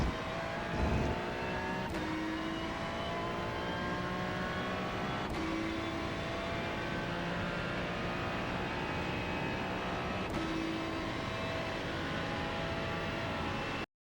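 Ferrari 296 GT3 race car in iRacing, engine note dropping under braking with three sharp blips as it downshifts, steady loud drone throughout with no talk.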